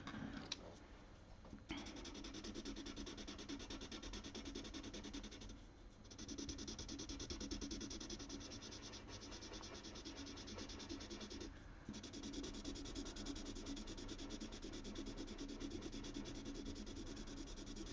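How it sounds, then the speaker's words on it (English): A 2H graphite pencil rubs steadily over paper while blending a portrait, a close, continuous dry scratching hiss with only brief pauses. "you can go over with something like a 2H and it fills in all the bits."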